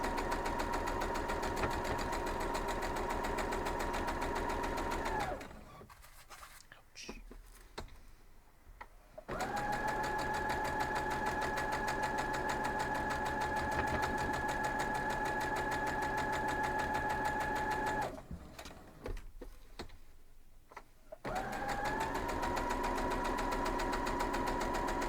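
A sewing machine stitches up four pieces in steady, loud mechanical runs, stopping twice for short pauses before starting again.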